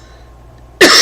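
A single loud, harsh cough bursts out near the end after quiet room tone, close to the microphone during a live coding stream.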